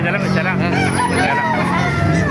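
A rooster crows in a busy chicken market in Baliuag, Bulacan, loud and close within a dense mix of other fowl calls and people talking.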